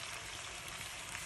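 Tomato sauce poured over pork spare ribs in a hot pan, giving a steady, dense sizzle that runs without a break and stays close and fairly loud, with no talking over it.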